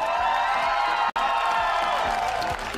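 An audience at a junior innovation competition final applauds and cheers for a guest singer. It makes a dense, continuous wash of clapping and crowd noise, with a momentary dropout partway through.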